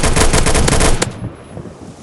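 Rapid bursts of automatic gunfire cut down zombies in a zombie apocalypse video game, loud and close for about a second before stopping abruptly into quiet game ambience.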